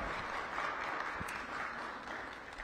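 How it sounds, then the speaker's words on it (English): Audience applause for Metropolitan Police Department officers and their police chief at a mayoral press event in Washington, DC: steady crowd clapping filling the whole stretch, moderately loud and continuous without talk. "Give them a big round of applause as well."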